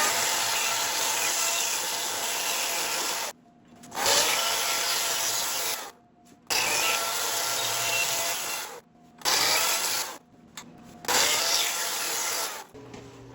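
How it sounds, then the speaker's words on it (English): Chainsaw cutting into a woodturned bark bowl filled with resin, a loud, close, broadband roar running in long bursts with short abrupt pauses between cuts. "So I'm going to take a chainsaw and cut it as close as I can to the surface of the"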